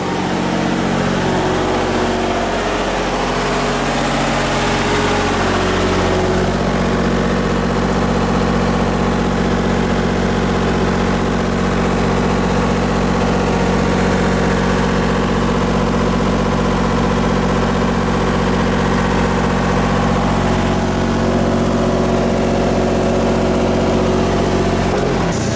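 A backup generator engine runs during a power outage, a loud, close, continuous mid-to-low drone that idles steadily for the whole stretch with no talk.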